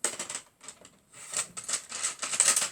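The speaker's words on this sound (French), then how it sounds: "je vais colorier avec des crayons de couleur" Coloured pencils scratching across a greeting card, a soft, close, uneven patter of quick strokes with brief pauses between bursts.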